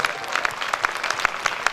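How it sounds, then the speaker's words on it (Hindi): Seminar audience at a DTM sixth-level event in Gajraula breaking into applause, dense overlapping claps with sharper individual hits standing out, steady and fairly close throughout. "जबरदस्त तालियां आप सबके लिए"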